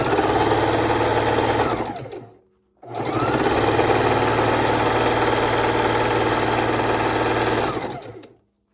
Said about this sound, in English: I'm going to keep sewing these together